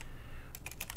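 A quick run of keystrokes on a computer keyboard, about six close, crisp clicks in the second half after a quiet start.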